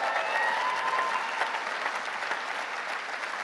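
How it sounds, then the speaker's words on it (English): An audience at a Scottish Labour campaign rally bursts into sustained applause and cheering, a dense, steady wash of clapping from a crowd that fills the whole moment. "Yeah, big cheer for Jackie"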